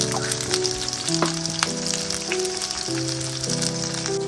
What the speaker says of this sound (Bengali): মোটামুটি ভালো করে ভেজে নিয়েছি পেঁয়াজগুলো